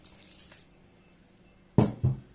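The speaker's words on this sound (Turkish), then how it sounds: "Şimdi biraz su ekleyeceğim." Water is added to a bulgur and minced meat dough for Bitlis-style katıklı dolma, heard as two short, close splashy pours in a quiet kitchen.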